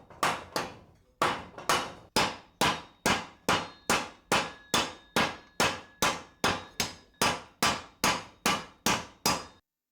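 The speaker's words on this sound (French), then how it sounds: "Puis je vais frapper dessus avec mon marteau." Hammer striking hot forged steel on a wooden log to knock off iron scale while forging a knife: about twenty sharp, ringing metallic blows in a steady, quick rhythm, loud and close, with no talk.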